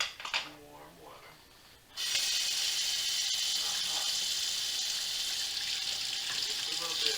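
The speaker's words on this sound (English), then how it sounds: "Warm water." Warm water gushes from a kitchen tap, a steady loud broadband rush that starts about two seconds in and runs to the end, after some quiet handling sounds and brief talk at the start.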